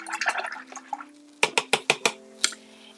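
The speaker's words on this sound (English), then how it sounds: "So I'm going to wash my brush." Paintbrush swished and rinsed in a water jar, light splashy sloshing at first, then a quick run of five or six sharp taps of the brush against the container, all close and dry.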